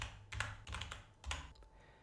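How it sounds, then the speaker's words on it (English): A computer keyboard is tapped in a few separate bursts of key presses, close and moderately quiet over a low steady hum, with no speech. "hit F2 on the keyboard to rename"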